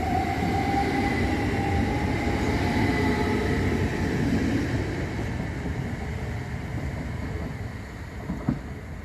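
Southern Railway Class 377 electric unit, number 377152, pulls out of Havant station with a steady rumbling roar of motors and wheels, close and loud, slowly fading with a faint squeal near the end.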